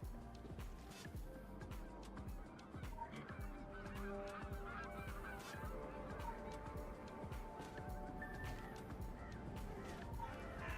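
Goose honking repeatedly and loudly, with rapid overlapping calls in a steady chorus throughout.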